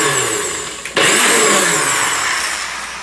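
A food processor pulses a batch of avocado pasta sauce, giving a loud, steady whirring motor roar that stops briefly and then starts again at full strength. No one speaks.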